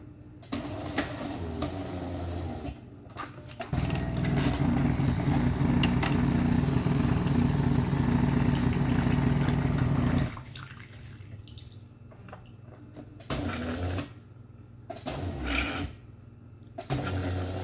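A Jura Impressa J9 coffee machine, faulty and dispensing from the wrong spout, hums and whirs loudly for several seconds, then quieter clicks, drips and short mechanical bursts follow in stops and starts.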